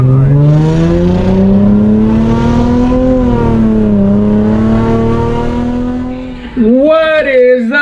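A 2006 Infiniti G35 coupe in sport mode pulls hard, its engine note climbing loudly and steadily for several seconds before a brief dip and another surge of revs close by.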